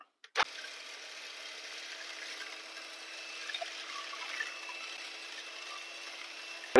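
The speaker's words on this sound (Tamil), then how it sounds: "பால் சேர்த்து இதை அடிச்சுக்கோங்க" An electric mixer beating cake batter after milk is added, a steady whirring hum that starts suddenly and runs evenly at moderate volume, without talk.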